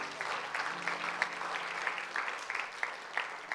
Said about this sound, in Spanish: Un aplauso bien fuerte a nuestro Señor Jesús.